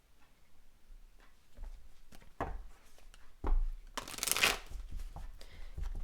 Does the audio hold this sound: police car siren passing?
no